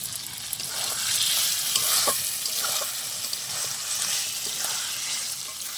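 Previously fried potatoes dropped into hot oil with asafoetida for a vegetarian curry, a continuous bright sizzle that swells briefly and settles, with light stirring scrapes close by and no voices.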